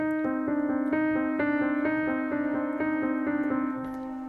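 A piano plays a bouncing, rhythmic right-hand melody over steady low octaves in the left hand, repeating pulses at an even tempo, close and clear.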